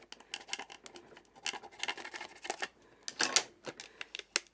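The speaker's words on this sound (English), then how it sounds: "I like to take just a sharp edge and really kind of burnish it on" A sharp edge burnishing transfer tape onto a surface, giving quiet, close scratchy rubbing strokes in short irregular bursts, faint and alone.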